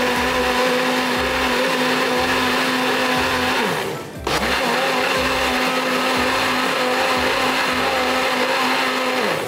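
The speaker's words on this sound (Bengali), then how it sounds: "সো এখন আমরা ব্লেন্ড করে নেব" A kitchen blender whirs steadily as it blends a watermelon lime cooler drink, a loud, even motor drone that cuts out briefly midway and then starts up again.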